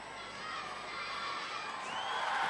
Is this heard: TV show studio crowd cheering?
yes